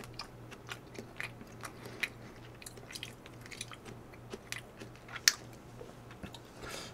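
Close, soft chewing and biting during a Korean beef shabu shabu meal, with small wet crunches scattered across the stretch and one sharper crunch near the end, all over a low steady hum and without any talking.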